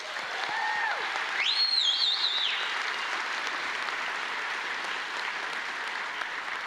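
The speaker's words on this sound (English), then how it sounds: "Let's give them a well-deserved round of applause" Commencement audience in a large hall giving a sustained, even round of applause, a dense roar of clapping throughout with a couple of whistles cutting through near the beginning.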